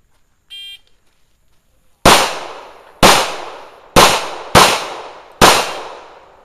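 Gunshots on a firing range, five sharp loud reports spaced about a second apart, each with a ringing decay, preceded by a brief electronic beep.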